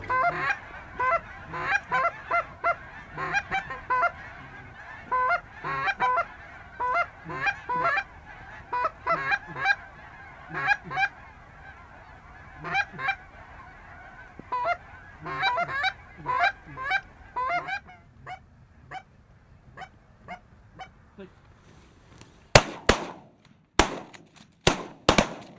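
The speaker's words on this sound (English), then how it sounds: "you wait for the birds coming, and then you just become ready to shoot" Wild geese honk repeatedly in a busy flock chorus during a goose hunt, then the calls thin out and several sharp, loud gunshot cracks ring out near the end.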